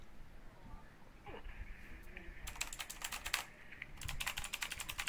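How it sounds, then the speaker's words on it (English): A loud computer keyboard being typed on in two quick clattering bursts after a quieter start with faint voice murmurs in the background, the keys sharp and close to the microphone. "But you have some loud typing. Oh no, that's my keyboard."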